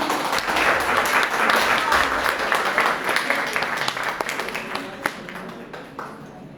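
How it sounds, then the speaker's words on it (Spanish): Applause from a seminar audience fills the room as a dense, steady wash of clapping that slowly thins out toward a few scattered claps at the end. "le damos un aplauso a Blanca."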